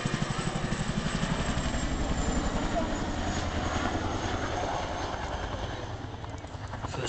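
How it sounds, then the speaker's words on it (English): A Chinook heavy lift transport helicopter at an air show at East Fortune, with its rapid rhythmic rotor thumping and engine roar holding loud and steady, then easing slightly toward the end. "Entered service, of course, from the United States Army as their main heavy lift transport helicopter."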